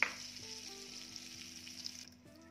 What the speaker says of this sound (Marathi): इथे मी बटर आणि तेल गरम करून घेते